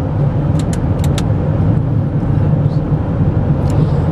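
Inside a car driving on the road, a constant loud engine and road rumble fills the cabin, with a few brief faint clicks over it and no speech.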